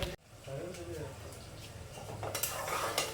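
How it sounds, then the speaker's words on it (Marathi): Whole spices, curry leaves, bay leaf and onion fry in a pressure cooker, giving a steady sizzle with clinks of a stirring utensil against the pot, while a voice talks over it. "कुकर मध्ये मम्मीने खडे मसाले टाकले, त्यानंतर कढीपत्ता, तेजपत्ता आणि आपला कांदा टाकून मस्त फ्राय करून घ्यायचा आहे"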